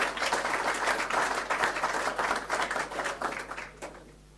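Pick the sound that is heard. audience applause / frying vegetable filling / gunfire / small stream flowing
audience applause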